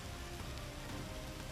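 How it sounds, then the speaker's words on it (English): Torrential rain from a violent storm pours down in a dense, continuous hiss, steady and enveloping with no other sounds breaking through. "a violent storm with strong winds and torrential rain"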